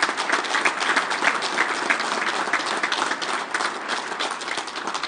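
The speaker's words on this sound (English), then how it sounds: "Let's give Terry a big round of applause." Audience clapping at a turkey calling competition senior finals, a steady burst of many hands applauding at moderate distance, even and continuous for several seconds without voices.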